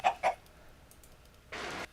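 Chickens clucking in Minecraft's Tekkit modpack, two short clucks at the start, then a quiet gap and a burst of scratchy noise near the end.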